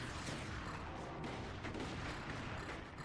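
Dense, continuous barrage of weapons fire and explosions from the physics-based fort-battle strategy game Forts, a loud unbroken roar of overlapping shots and booms with no pauses.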